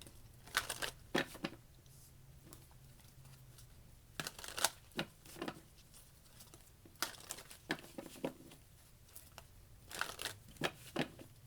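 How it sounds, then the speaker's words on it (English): Tarot cards shuffled by hand in short, irregular bursts of crisp riffling and papery flicks, separated by quiet pauses, close and soft with no talking. "That did not flip bright side up, so I am just going to keep shuffling."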